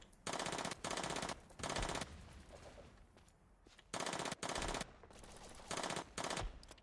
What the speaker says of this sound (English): This is obviously a PPSH.